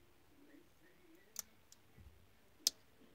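A few faint, small plastic clicks of Lego Transformers pieces being folded into shape: a quick pair, a lighter tick, then one crisper click, close but quiet against a near-silent background.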